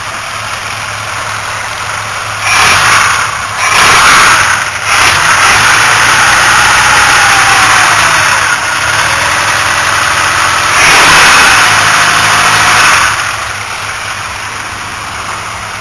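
A four-cylinder car engine idles close by with a steady rumble, then revs up in several swells that rise and fall back to idle, loud and without talk.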